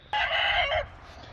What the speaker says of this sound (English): So there's my boy Hawk, the generic looking chicken in there, and then the rest of his flock